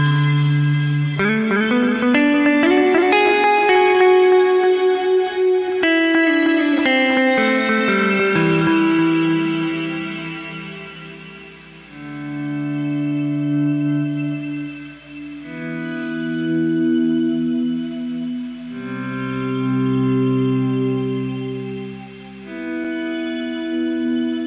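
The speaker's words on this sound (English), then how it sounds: "This one's gonna have the shimmer reverb with the take delay." Guitar through a Horizon Devices Flux Echo pedal set to shimmer reverb with tape delay: bright, layered chords swell and ring out with octave-up shimmer and repeating echoes, fading in and out like a synth pad with no talking.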